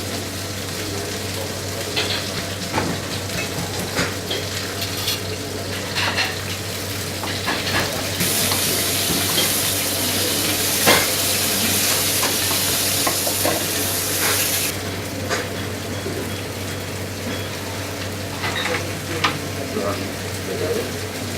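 A pork chop sizzles in a pan with butter and aromatic vegetables (onion, carrot, celery, garlic), a steady moderate frying hiss with occasional stirring clatter and a brief louder burst of sizzle midway.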